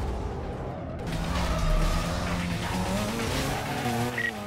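Police car braking hard and skidding in the Need for Speed Carbon racing game, a loud tire squeal cutting over a steady roaring engine, with faint engine whine rising near the end.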